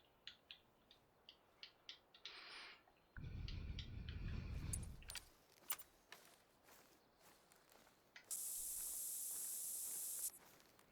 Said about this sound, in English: Spray a little funk be gone.